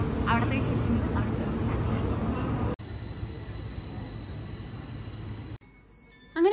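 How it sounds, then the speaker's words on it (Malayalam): Train pulling into Schaffhausen station on the Swiss border, a steady loud rumble of wheels and rail noise with high steady squeal tones, cutting abruptly between segments; voices talk over the first part. "ദാ നമ്മുടെ ട്രെയിൻ എത്തി."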